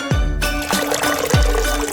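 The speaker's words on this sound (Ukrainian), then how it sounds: "Потім заливаємо водою." Water is poured into a wine glass half filled with grapes and topped with ice, a close splashing, trickling stream that runs steadily for about two seconds with a brief break partway through.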